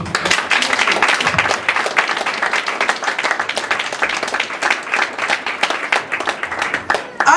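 A congregation claps during a Sunday church service, a lively, sustained round of applause from many hands filling the room and continuing to the end.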